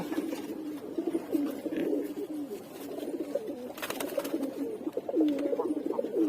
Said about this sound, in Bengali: আরেকটা কবুতরকে ধরতেছি, এই যে এই নটটাকে ধরতেছি